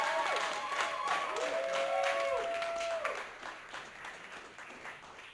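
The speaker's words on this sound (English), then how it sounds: "Let's put your hands together for Ricarlo Flanagan." A comedy club audience claps and cheers for comedian Ricarlo Flanagan, the applause dense and lively at first, then thinning out and fading away.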